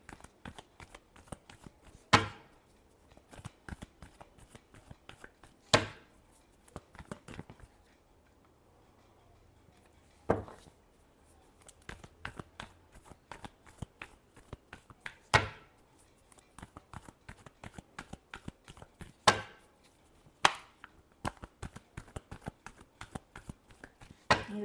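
Tarot cards get shuffled by hand, soft riffling and flicking in clustered bursts with sharper taps every few seconds, close and quiet with no speech.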